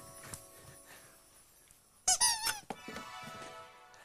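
Squeaky toy bones squeezed in a quiet room: two sharp, loud squeaks close together, then a few softer squeaks trailing off.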